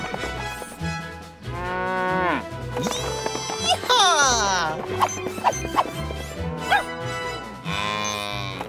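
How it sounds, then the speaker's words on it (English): Cartoon cattle on a ranch moo repeatedly in long drawn-out calls, mixed with playful voices and music in a children's show, with several loud bellows spread across the stretch. "we have loose cattle to wrangle"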